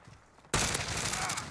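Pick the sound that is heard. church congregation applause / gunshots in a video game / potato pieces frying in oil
gunshots in a video game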